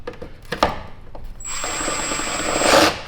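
Power drill driving set screws into a BMW M5 car part, a steady high-pitched whine that starts after a few scattered clunks and runs loud and continuous for over a second before stopping.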